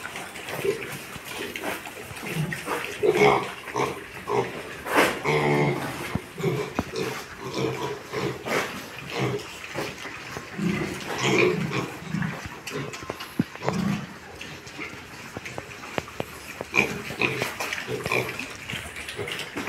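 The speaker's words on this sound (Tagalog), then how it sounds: "Ito nga pala yung mga baboy na nabili namin, mga biik." A dozen piglets bought at market squeal and oink in bursts, shrill cries and grunts overlapping close by, loud and restless throughout with no talking.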